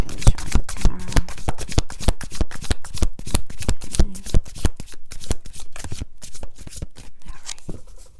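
Tarot deck being shuffled by hand, rapid close riffling and slapping of cards in quick bursts, loud and continuous, with a voice briefly heard twice.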